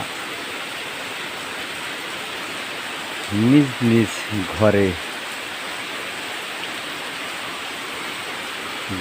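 A steady, dense hiss of heavy rain fills the whole stretch, with a person speaking briefly in the middle.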